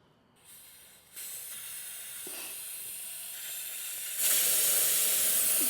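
A digital tire inflator being screwed onto the valve of a Ford Ranger tire releases a sharp hiss of escaping air that starts faint, jumps louder in steps and ends in a strong, close, continuous rush.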